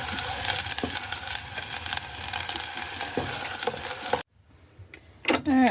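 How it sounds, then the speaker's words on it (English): Onions cooking in a pan, stirred with a spoon: loud continuous sizzling and frying with scraping stir noises, then a sudden drop to near silence before a brief clatter at the end. "We are cooking some onions, Sammy. I use a spoon. I'm just going to cook this a little bit."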